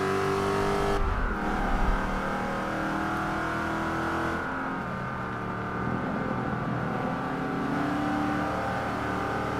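A race car engine in the Forza 5 racing game drones steadily and loudly, holding a high sustained tone with slight shifts in pitch as it revs, alone without any voices.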